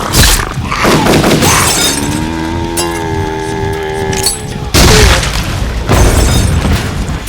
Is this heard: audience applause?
no